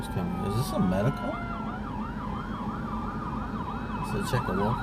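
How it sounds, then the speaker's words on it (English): An ambulance siren wails with a rising and falling pitch, steady and fairly close, over road noise and some background chatter on city streets in Bakersfield. "I hear ambulance coming"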